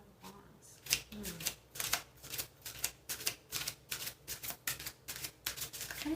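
Tarot cards shuffled by hand in a steady run of crisp riffling bursts, close and fairly loud, with a soft voice murmuring faintly underneath.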